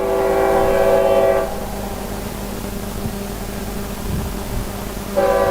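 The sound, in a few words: train horns in the background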